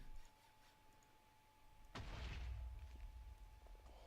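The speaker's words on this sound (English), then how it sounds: "It was just an explosion sound." A single sudden explosion in the Minecraft modpack FTB Infinity, played in Expert Mode, bursts in sharply at mid-clip and rolls into a loud low rumble that lingers and slowly fades.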